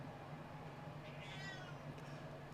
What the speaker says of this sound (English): Cat now protesting at the door.